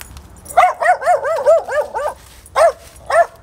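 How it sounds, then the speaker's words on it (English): A dog gives a quick run of about seven sharp, yelping barks close by, then two more separate barks after a pause, outdoors on a cold morning with no talking over it. "Wow, what a nice dog."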